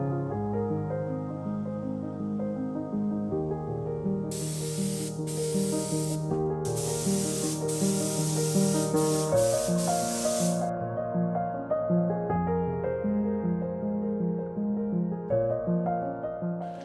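A spray gun hisses in bursts while painting a 40ft steel boat, several sharp sprays of varying length over a background of music.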